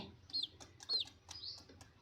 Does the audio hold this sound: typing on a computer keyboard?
no